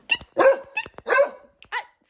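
A dog barks close by in about five sharp, loud bursts, some doubled, with brief gaps between them and no one talking.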